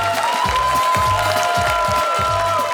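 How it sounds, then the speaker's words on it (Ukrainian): Studio audience at a Ukrainian comedy show claps in a dense, steady burst, with a host's voice and cheers layered over the applause. "Просто давайте Вау! оплескаємо Вася Байдак."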